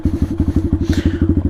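Taotao DB17 125cc pit bike engine running close up during a top speed test, a loud, rapid, evenly pulsing single-cylinder thump with a brief rise in pitch midway.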